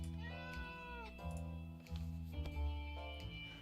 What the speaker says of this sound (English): When the beast finally escaped, it turned out to be an angry house cat.